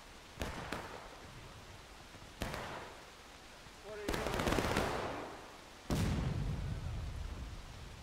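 Gunfire in the War of Rights video game, with sharp musket or pistol shots ringing out at intervals, some distant and some closer, and a rolling volley around the middle, over a quiet background.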